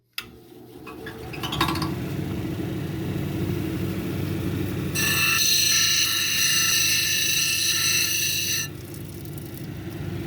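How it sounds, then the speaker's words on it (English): A Kingsley North 6-inch cabbing machine grinds banded onyx with a steady motor hum and rumble, joined midway by a bright, harsh grinding whine that lasts several seconds before easing off. "we're over here on my 6-inch Kingsley North cabber here"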